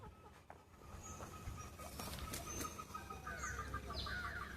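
A grey hen clucking from inside the coop, soft broken clucks and short calls from a fowl out of sight, faint and fairly distant against outdoor background noise, with a few other bird sounds.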